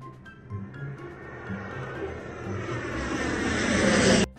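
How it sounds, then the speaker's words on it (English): A propeller airplane drones overhead, its engine growing steadily louder as it approaches, then cutting off abruptly at the end. "Airplane."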